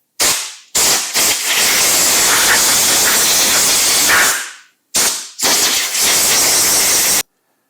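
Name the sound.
compressed air blowing dirt off an antique Troy-Bilt rototiller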